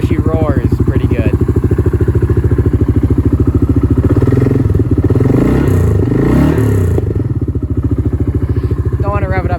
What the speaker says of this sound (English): I think the HMF Swamp XL is the loudest exhaust you can get from HMF for this bike. So she roars pretty good.